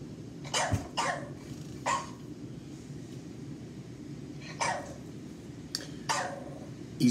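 A small chihuahua gives several sharp, separate barks and a brief growl over a low steady background hum, fairly close with quiet gaps between bursts.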